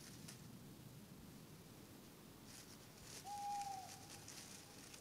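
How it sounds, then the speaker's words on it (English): A single owl hoot carries through the woods at night, a clear short call heard once in the middle distance over a soft, hissing background of rustling air. "By dawn, the night-hunting owl has returned to roost"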